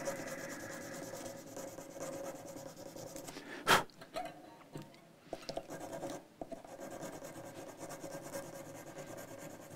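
Fine-grit sandpaper rubs a wooden bridge from an Epiphone Broadway guitar, giving a soft, close, steady scratching hiss with a sharp louder scrape partway through and a few light knocks.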